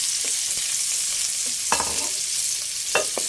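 Onion and ginger frying in a pan with dried anchovies, a steady sizzle broken by a few scraping stirs of the spatula, close up with no voices.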